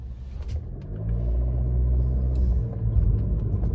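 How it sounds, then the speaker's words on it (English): A car's engine rumbles low and steady from inside the cabin while driving, swelling a little as the gas pedal is pressed, with faint thumps over the drone and no talking. "if y'all can hear my car in the background, when I step on my gas pedal"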